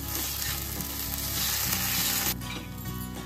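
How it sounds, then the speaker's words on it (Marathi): Curry masala sautéing in oil over a medium gas flame for a drumstick curry, a steady close sizzle and crackle running throughout. "मीडियम गॅसवर आपल्याला एक 4 ते 5 मिनिट आपल्याला ह्याला छान परतून घ्यायचंय, जोपर्यंत मसाला तेल सोडत नाही।"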